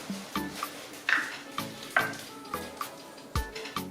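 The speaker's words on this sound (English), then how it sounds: "I'm going to put in a 1/4 cup of oil" Cooking oil goes into a pan with Cajun seasoning, giving a series of close clinks and taps from the utensils and pan, with a faint sizzle underneath.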